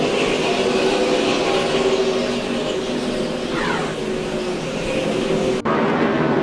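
NASCAR stock cars race around an oval in a loud, continuous roar of engines, with a pitch sweep as one car passes close before the sound cuts off abruptly near the end.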